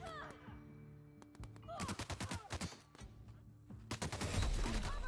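Gunfire from The Outer Worlds, the video game, comes as quick bursts of sharp cracks at moderate volume. Short pauses and softer game sounds fall between the bursts.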